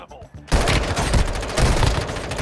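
Sustained automatic gunfire in the mobile shooter game Warzone Mobile bursts in suddenly after a brief quieter moment and rattles on loudly and rapidly, with a voice briefly heard at the start.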